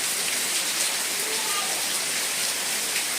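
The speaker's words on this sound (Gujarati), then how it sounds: "ભાઈ નીકળે વરસાદ આવે છે ખૂબ ધબધબાથી" Heavy rain pours steadily in Mithapur, Gujarat, a dense even hiss of drops drumming on surfaces with no letup and no voices.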